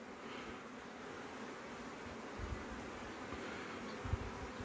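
Honey bees buzz steadily close to a hive, a dense continuous hum with a few brief louder passes.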